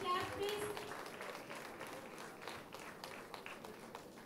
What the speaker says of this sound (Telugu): అందరూ కూడా బిగ్ క్లాప్స్ కొట్టాలి.